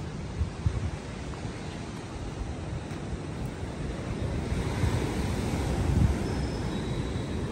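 Ocean waves rolling onto a Costa Rica shoreline among trees, a continuous low rushing surf mixed with wind buffeting the microphone, building gradually louder toward the end.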